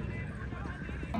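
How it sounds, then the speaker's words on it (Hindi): A horse gallops in a neza bazi tent pegging event in Piplan, its hooves making rapid, steady clip-clop beats under a commentator's talk. "शाबाश घोड़ा रुस्तम"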